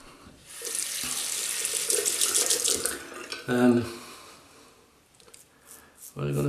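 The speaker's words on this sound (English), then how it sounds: "Rinse the razor down this side." Tap water running over a razor during a rinse, a close gushing splash for a few seconds that cuts out, followed by brief splashes and dripping, with a voice heard faintly.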